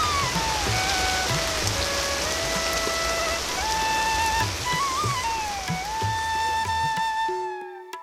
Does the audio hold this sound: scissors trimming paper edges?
no